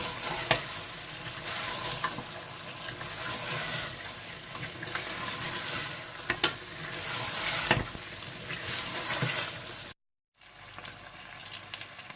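Mutton pieces with green chilies frying in a stew pot, a steady broadband sizzle with occasional stirring clanks, a short break near the end before the frying resumes.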